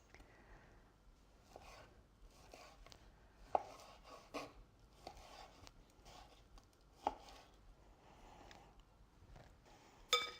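A knife cuts cooked lamb into strips on a board, with sharp, irregular chopping knocks at an unhurried pace against a quiet kitchen background, and no talking.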